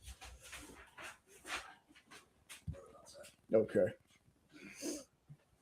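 A dog whimpering and panting softly in a room, quiet whines scattered between someone talking.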